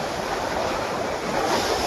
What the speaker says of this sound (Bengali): এটা হচ্ছে দীঘার সমুদ্র